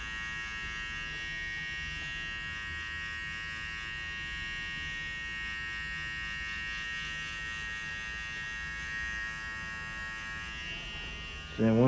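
Electric hair clippers buzz steadily while cutting a low taper fade, a close, continuous motor drone holding even for most of the stretch before a brief louder burst at the very end.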